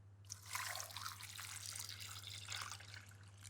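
Water runs from a tap into a cooking pot on a stovetop, a close, splashy trickle rising and falling for a few seconds over a low steady hum.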